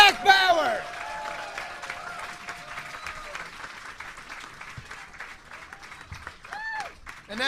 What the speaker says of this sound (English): Ladies and gentlemen, let's give a big round of applause to our winner of the first ever Geek Fighter, Jack Bauer.